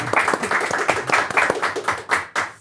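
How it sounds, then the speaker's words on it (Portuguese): A talk show studio audience claps, a small group of hands beating in loose, distinct rhythmic strikes close by, fairly quiet with brief gaps between bursts. "Ah, palmas!"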